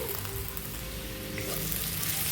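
Broad beans and potatoes fry in a pan with a steady, close sizzle and light crackle that holds evenly throughout, with no voices.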